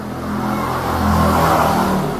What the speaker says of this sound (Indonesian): yang pakai knalpot kenceng gitu banyak banget